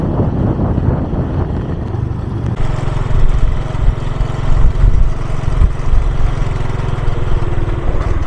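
A motorcycle rides along an airport runway in Tuvalu, its engine droning steadily and close for several seconds, rising slightly partway through with wind noise over it and no talk.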